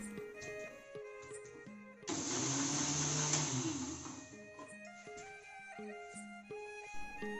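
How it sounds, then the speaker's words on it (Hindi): A mixer grinder coarsely grinds tomato chutney in a home kitchen: a loud whirring burst of about two seconds rises above quieter background music and then cuts off. "इसको दरदरा मैं मिक्सी में अब पीस लेती हूँ।"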